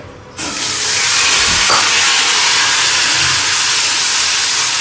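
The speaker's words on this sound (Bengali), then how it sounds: "সবজিতে ফোড়ন দিয়ে দিয়েছি পাঁচ ফোড়ন আর শুকনো লঙ্কা দিয়ে দিলাম" Vegetables hit hot oil tempered with five-spice and dried chili, setting off a loud, steady sizzle that starts abruptly and holds at full strength without pause, close and hissing.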